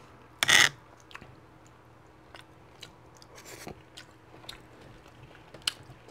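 Chewing a charred tomahawk ribeye steak, one sharp crunchy bite near the start followed by soft, quiet mouth sounds and light chewing, close up.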